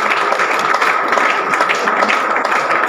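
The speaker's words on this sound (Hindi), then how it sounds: "जबरदस्त तालियां साथियों के लिए सर" An audience claps steadily and densely for colleagues, a continuous loud wash of applause with no pauses.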